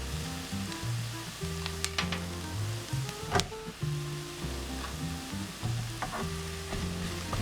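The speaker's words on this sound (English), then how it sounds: "now I'm going to add the mushrooms" Mushrooms go into a pan of frying onions for Danish-style beef stroganoff, giving a steady sizzle with scattered stirring clicks and scrapes, with low music-like tones running underneath.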